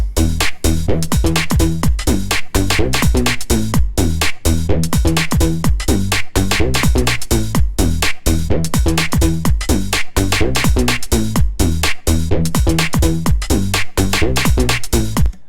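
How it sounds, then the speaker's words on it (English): A loud, punchy garage synth bass made in Vital pulses in a choppy, syncopated rhythm over a steady dance beat, filling the low end with no voices. "this garage bass in Vital"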